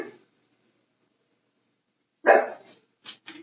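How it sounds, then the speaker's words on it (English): A dog barks indoors in a home kitchen: a short yelp at the start, then after a silence one sharper bark followed by two quick small yips, fairly close and loud. "No barking in my house,"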